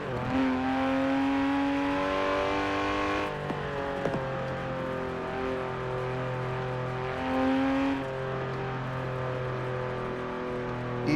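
Porsche Carrera RS engine revving hard at full throttle with rising, steady harmonic tones that shift through gear changes, loud and close, with no voices over it.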